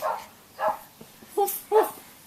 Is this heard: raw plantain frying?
no